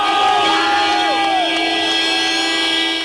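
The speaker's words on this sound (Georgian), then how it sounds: "საყვირებით, შეძახილებითა და საქართველოს დროშებით დღეს ქართველებმა რუსეთზე გამარჯვება იზეიმეს" Georgian rugby fans celebrating a win over Russia in the streets of Tbilisi, with horns blaring continuously over a loud, dense crowd and shouting voices, close and unbroken for the whole stretch.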